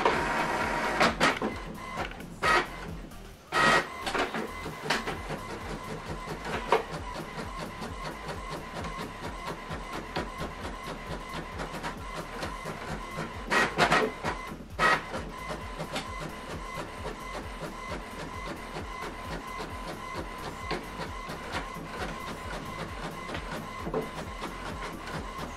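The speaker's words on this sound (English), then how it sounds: "Now this document is printing." An HP Envy printer runs a print job with a steady mechanical whir and repeated clicking and clattering, plus a few louder feed or carriage bursts near the start, close and continuous with no talk.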